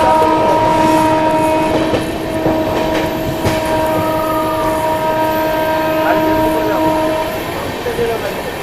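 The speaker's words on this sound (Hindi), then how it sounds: "ट्रेन ने 130 की रफ्तार पकड़ ली है" Marathwada Sampark Kranti Express running at about 130 km/h, a loud steady rumble of wheels and rails with sustained horn-like tones through most of the stretch, fading slightly toward the end.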